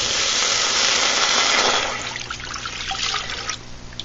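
Distilled, deionized water pours into a stainless steel pan, a loud continuous splashing rush up close that cuts off partway, leaving fainter trickles and drips.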